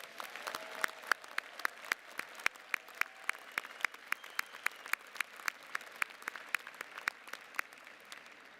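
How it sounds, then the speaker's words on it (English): Audience applause for the graduating class of 2020 and their families at a university make-up commencement ceremony: a steady run of scattered, distinct claps from a fairly distant crowd, with no talking. "Everyone, please join me in a round of applause to recognize the class of 2020 and their families."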